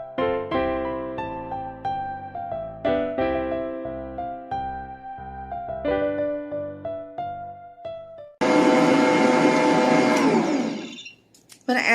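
An electric stand mixer whirs loudly and steadily as eggs go one at a time into Southern cake batter, after a stretch of tonal music, with a sudden jump to full motor noise.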